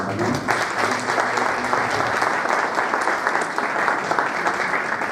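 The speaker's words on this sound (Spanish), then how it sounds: "Un aplauso para él también" A seated audience at a CONEP public-private partnership forum applauds the district mayor, producing loud, dense, continuous clapping with faint voices mixed underneath.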